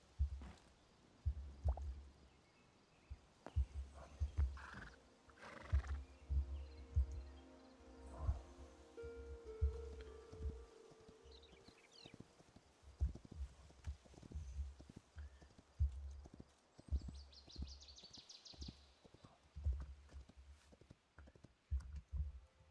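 Rhythmic hoof clip-clops from a horse in the video game Hytale, steady and fairly close, with a few soft clicks and brief tonal game sounds mixed in.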